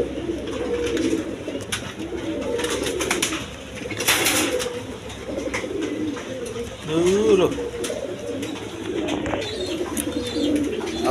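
A pair of pigeons coos in low, repeated throaty rolls, one louder burst standing out midway, while someone talks over them.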